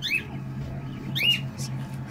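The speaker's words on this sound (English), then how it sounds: "I get the parrot stereo." Two short, sharp parrot squawks about a second apart, high-pitched and fairly close, over a steady low hum.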